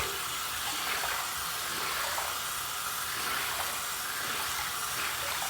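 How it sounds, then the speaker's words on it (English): Cold water runs steadily while a rag is rinsed for a head shave, a constant close splashing hiss with no break. "cold water rinse with this rag."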